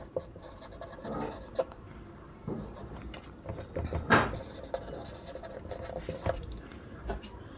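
Chalk or marker writing chemical element symbols on a board in a classroom: a series of scratchy, irregular strokes and taps over several seconds, with light background noise and no speech.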